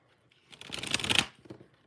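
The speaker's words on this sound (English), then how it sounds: "I'm going to go ahead and do the shuffling there." Tarot cards shuffled by hand in a brief burst of riffling and sliding, rising and ending within about a second, close and fairly quiet, with no talking.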